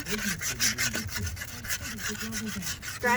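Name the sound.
scratching surface rust off 1980 CJ7 Jeep rims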